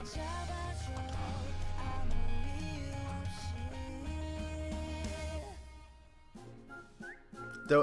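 A whistled melody rides over a full band with guitar and drums in a song, the backing thinning out near the end while the whistle carries on.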